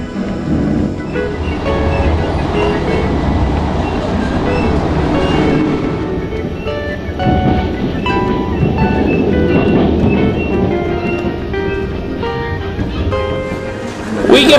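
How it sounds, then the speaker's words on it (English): A train rolls along on the ride back to Amsterdam, a steady rumbling interior ride with faint rhythmic clatter, while people talk over it throughout. "And then we catch the train back to Amsterdam."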